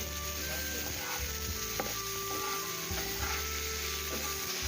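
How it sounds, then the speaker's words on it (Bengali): Ginger, green chili and tomato frying in a pan for a fish curry, a steady soft sizzle under intermittent stirring scrapes, close and continuous with no talk. "আমরা আদা কোড়া, লঙ্কা আর টমেটো দুটো দিয়ে একটু ভালোভাবে ভেজে নিতে হবে"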